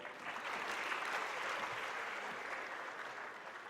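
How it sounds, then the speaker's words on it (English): Audience clapping at a national conference for chartered accountancy students, a continuous even wash of many hands, moderately distant and fairly quiet, with no talk over it. "You can clap for girls"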